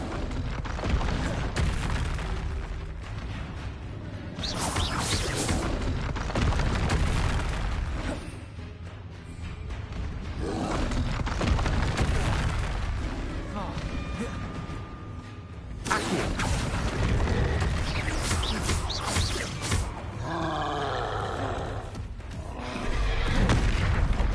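Confringo spell blasts in Hogwarts Legacy go off as repeated loud booming explosions in rapid bursts, with brief lulls between them and occasional crackling impacts during busy combat.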